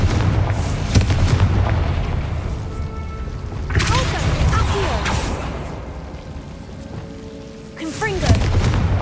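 Confringo fire spells exploding in Hogwarts Legacy, deep rumbling booms rolling out in loud waves, with crackling bursts and whooshing swells recurring over continuous low roar.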